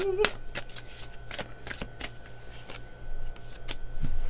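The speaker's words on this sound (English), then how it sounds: "let's get a few more cards and see what's our story" Tarot cards are shuffled and drawn during an intuitive energy reading, with a string of soft slaps and flicks at an irregular pace over a low steady hum. A brief vocal sound comes near the start.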